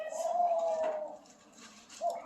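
Huckleberry, a pet cockatoo, makes a drawn-out, tonal call followed by quieter chirps and a short squawk, close by in a quiet room.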